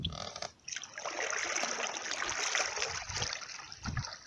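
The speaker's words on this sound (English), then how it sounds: "Paddle back on this side" Canoe paddle splashing and swishing through water on a canoe trip, a steady broadband wash of churned water with a short pause near the start, close and moderately loud.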